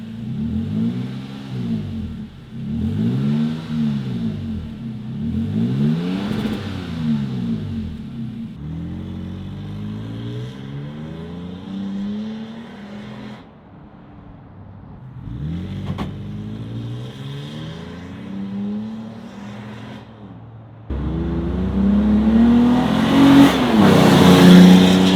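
Toyota Tacoma pickup with a Gibson aftermarket exhaust revving in repeated rising-and-falling swells, then accelerating through gear changes on the road, with a loud harsh surge near the end.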